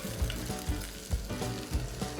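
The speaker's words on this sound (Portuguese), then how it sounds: "a gente vai dar uma refogada na cebola nessa gordurinha do azeite e que soltou da linguiça" Chopped onion sizzles and fries in a pan with olive oil and rendered calabresa sausage fat, a steady close crackle with periodic louder scrapes of stirring, no voices.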